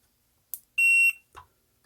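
A multimeter gives a single short, bright continuity beep while testing the thermal fuse of an electric stovetop grill, with faint clicks of the probes just before and after.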